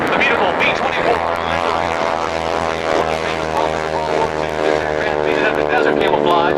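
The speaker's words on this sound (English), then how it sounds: "the LB-30 taking off now" An LB-30 propeller airplane, a B-24 variant, takes off at the Aerospace America airshow in Oklahoma City, its piston engines droning loud and steady throughout while an announcer talks over it.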